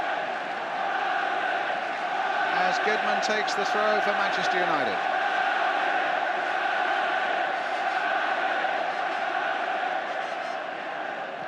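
Football stadium crowd at a Manchester United match roars steadily throughout, a dense continuous wall of noise with a commentator talking over it.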